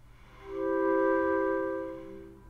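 Single Osmose synthesizer note with a long attack and decay and no sustain, swelling up slowly, holding briefly and fading gently, soft and alone.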